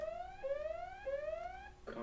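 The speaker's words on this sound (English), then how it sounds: "sorry about that alarm" An electronic alarm sounds in repeated rising sweeps, about three glides in two seconds, tonal and fairly clear against a quiet background, cut off at the end.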